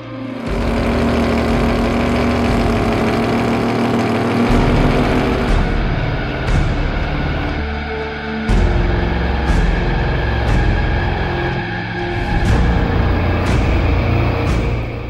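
Pika Motors Mazda RX-7 drag race car engine at a drag racing event, a loud, sustained rotary engine roar with several sharp revving bursts and surges toward the end, close and dominant with no talk.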